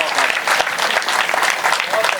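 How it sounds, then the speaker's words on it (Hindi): A crowd at a poetry gathering in a township claps loudly and densely, a dense, continuous wash of many hands that holds steady for a couple of seconds. "आप लोगों को अच्छा लग रहा है तो एक बार तालियां बजाकर बताइए"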